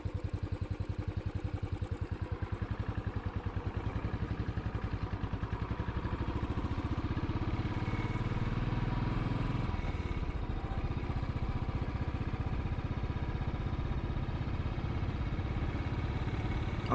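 Royal Enfield motorcycle ridden across flat Cambridgeshire fenland, its single-cylinder engine thumping steadily and fairly faint throughout, with no talking.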